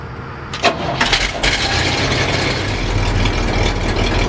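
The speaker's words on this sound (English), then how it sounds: "So I've got the truck running." A truck engine cranks briefly, then catches and settles into a steady, loud idle that runs continuously close by, with no talking.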